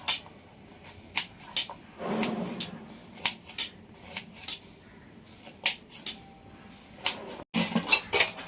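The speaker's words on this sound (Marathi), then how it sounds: "ह्याचे आता छोटे स्लाइस मी करून घेते" Knife chopping tomatoes into small slices on a cutting board, a run of crisp, irregular close taps with a few louder clustered strokes, no talk.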